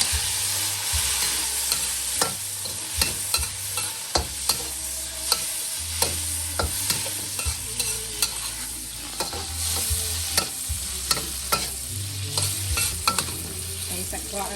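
Sausage fries in a pan for crab fried rice, a loud, continuous sizzle up close with regular spatula scrapes and knocks against the pan, and no one talking.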